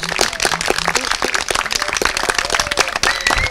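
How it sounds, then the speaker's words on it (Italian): An audience on an Italian game show applauds, dense steady clapping filling the whole moment, fairly loud and close, with no talk over it. "Un applauso a Giovanna, grazie."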